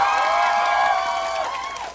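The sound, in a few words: audience applause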